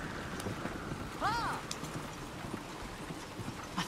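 Horse hooves clip-clop at a steady trotting rhythm in Red Dead Redemption 2, faint and soft, with a brief whinny-like cry partway through and a quiet breezy background.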